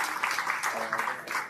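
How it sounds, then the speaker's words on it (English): An event audience claps at a book launch in a short burst of steady, dense applause from a crowd, close and sustained throughout. "So please, round of applause for"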